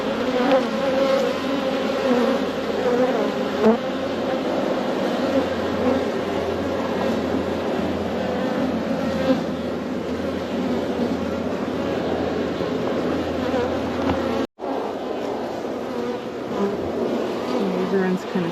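Honey bees in an opened hive during an early-season February check buzz loudly and steadily throughout, a dense, close, continuous drone.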